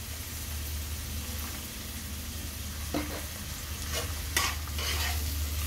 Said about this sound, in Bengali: এবারে সবগুলোকে নাড়াচাড়া করে নিচ্ছি।